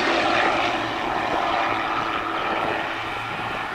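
An Extra EA260 aerobatic propeller aircraft drones steadily overhead at the Duxford airshow during a formation display, its loud, continuous engine roar filling the air without pause.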